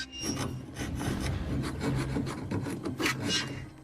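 Harsh, rhythmic rasping of a saw cutting through metal bars, rapid back-and-forth strokes, loud and close, no voices.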